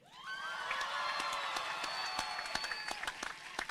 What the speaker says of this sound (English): graduates, please applaud, cheer, and yell